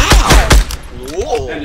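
Rapid bursts of video game gunfire, three loud sharp shots in quick succession up close, followed by quieter whooshing tones, with a player's voice briefly audible.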